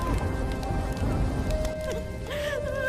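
Heavy rain pours steadily in a village during a cold spell, a dense, loud hiss with a faint distant rumble and whining tones over it near the end.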